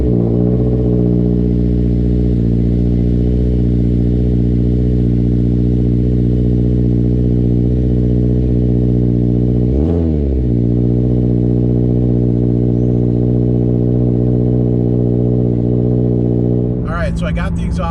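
A 2019 Subaru Crosstrek with a Nameless muffler delete idles with a steady, deep exhaust drone. There is a brief blip around the middle and a burst of clatter near the end.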